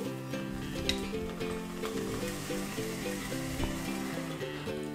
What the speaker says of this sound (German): aber ich lasse sie nochmal ein kleines bisschen brutzeln